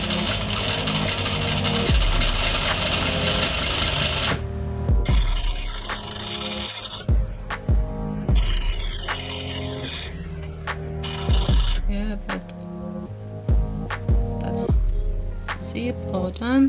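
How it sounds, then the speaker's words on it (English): Sewing machine topstitching the front fly of tailored trousers, heard as bursts of mechanical stitching with a steady hum, broken by short pauses and clicks of fabric handling. "Now I'm just gonna top stitch"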